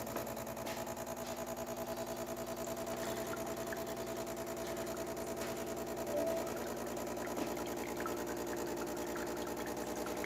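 A Gaggia Cadorna espresso machine runs a rinse cycle with a steady, faint pump hum and buzzing vibration, continuing evenly with no talk.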